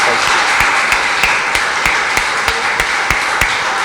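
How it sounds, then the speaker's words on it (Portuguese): A seated church congregation claps for Jesus during a Sunday worship service, sharp claps falling together in a steady, evenly spaced beat over a bright, roomy wash of applause. "dê uma linda salva de palmas para o Senhor Jesus"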